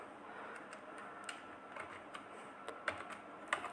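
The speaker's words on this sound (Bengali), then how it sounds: "আমি কয়েকটা বাংলা শব্দ লিখে দেখাই।" Keyboard clicks from someone typing Bangla words on a computer keyboard in MS Word: quiet, scattered keystrokes with a few sharper taps near the end, no voices.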